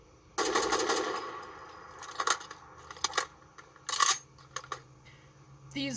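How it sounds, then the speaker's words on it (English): Semi-automatic gun in a video game fires in separate trigger pulls, one opening shot and then a few spaced sharp cracks with mechanical clacks, fairly close and clear with no talking. "that's just me pulling the trigger, or, so it's semi-automatic"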